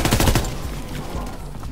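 Rapid automatic gunfire from a World War II video game bursts loudly at the start, then trails into a rumbling decay, with no talking over it.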